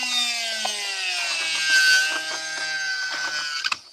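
A blade saws through bone while guitar picks are carved by hand, giving a steady, close rasping scrape with a ringing, squealing tone that holds for about four seconds and ends in a few sharp clicks.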